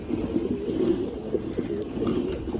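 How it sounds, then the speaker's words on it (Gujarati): A black pigeon in a home pigeon setup gives soft, low, repeated coos at close range, with faint background noise underneath. "તો જો બ્લેકમાં હે કબૂતર"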